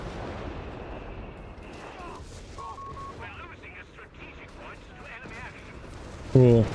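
Base howitzer artillery shells land in Company of Heroes 3, a dull battlefield rumble under continuous commentary talk, ending in one louder, close blast.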